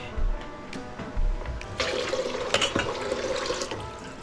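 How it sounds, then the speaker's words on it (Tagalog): Water from a tap pouring into a cooking pot, a continuous splashing rush after a few faint knocks, close and steady until the end. "tapos lagyan natin ng tubig."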